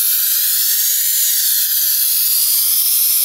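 A garment steamer blows a steady, loud hiss of steam onto a shirt sleeve, a continuous airy rush that holds unbroken for the whole stretch with no talking.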